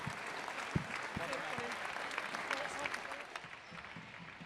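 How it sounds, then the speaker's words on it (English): Spectators at a junior squash final applauding a player, moderately distant crowd clapping that stays fairly even, with a few sharper individual claps and faint voices underneath. "Round of applause for Abdallah Eissa."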